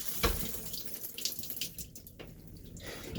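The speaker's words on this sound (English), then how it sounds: "my shower was running" Water runs from a shower inside a 2011 Newell motorhome, a steady close hiss of flowing water with a few brief louder splashes and knocks, no talking.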